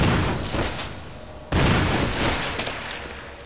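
A loud shotgun blast in Resident Evil HD Remaster kills an enemy, a sudden booming shot cutting through a rumbling, noisy game background and then trailing off.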